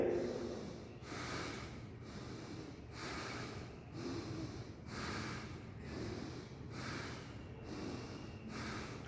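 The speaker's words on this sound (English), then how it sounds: "try to breathe deep here." Deep, slow breathing during a back-strengthening yoga pose, with rhythmic audible breaths repeating roughly every second, close and soft, with no talk.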